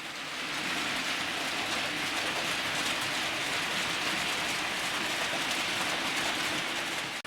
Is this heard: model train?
yes